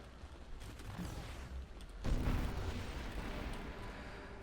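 Explosions in the Nova Drift space shooter game, a rumbling burst that swells sharply midway and lingers as a dense, noisy roar with no talk.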